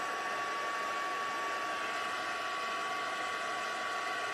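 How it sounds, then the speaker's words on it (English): A heat embossing tool blows hot air in an unbroken, even hum and whoosh with a steady high whine, running alone and unchanging throughout. "Get this heat embossed."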